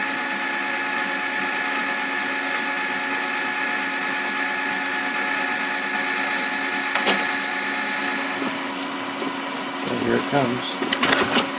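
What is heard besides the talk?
Magicolor 2400w printer solenoid clicking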